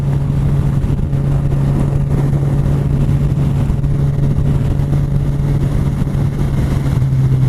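A Kawasaki Z1000 motorcycle cruising in sixth gear, making a steady, even engine drone with a low hum and wind rush, constant in level with no revving, loud and close.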